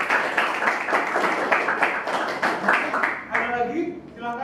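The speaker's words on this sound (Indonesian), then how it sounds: "Wah, mantap, tepuk tangan." Classroom clapping fills the room with steady, dense applause from a group of students, fading toward the end as a voice starts talking over it.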